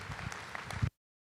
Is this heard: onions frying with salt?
no